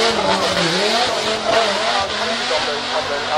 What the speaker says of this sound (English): you can see them spinning round whilst he's doing a donut